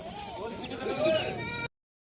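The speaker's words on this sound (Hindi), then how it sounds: "बहुत प्यारा सेट है ये 100 बकरियों का।" Goats from a set of 100 kept with breeders bleat in quavering, wavering cries close by, several calls overlapping against a busy background for under two seconds before the sound cuts off.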